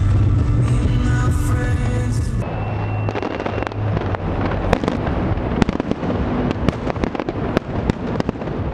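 New Year fireworks over the Brandenburg Gate in Berlin bursting in rapid succession, loud sharp pops and crackles over a constant roar, with a dense rumbling barrage early on, no voices.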